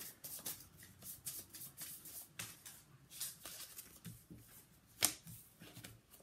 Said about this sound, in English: These cards are so little, they're hard to shuffle.